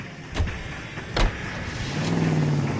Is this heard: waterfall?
no